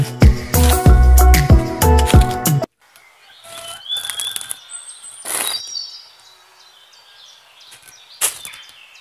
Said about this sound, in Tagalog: huni lamang ng mga ibon ang naririnig dito sa kagubatan